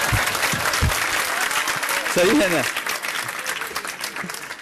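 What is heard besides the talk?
audience applause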